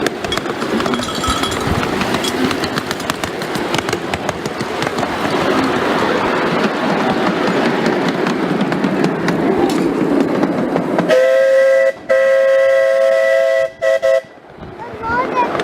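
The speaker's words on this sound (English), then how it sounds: "See that train?" Train rolling over a bridge, a loud steady rumble and clatter close by, ending with sustained horn or whistle tones near the end; speech is heard over it.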